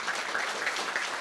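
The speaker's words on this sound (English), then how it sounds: "I'd like to also applaud them." Applause from an audience at an evening college event, a steady dense wash of many hands clapping with no clear pauses, moderately loud throughout.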